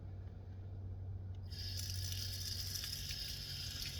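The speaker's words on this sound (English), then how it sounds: "We're going to rinse this off." A tap runs steadily while freshly harvested pennywort is rinsed, a continuous close hiss of water that swells brighter about halfway through as the flow splashes onto the leaves.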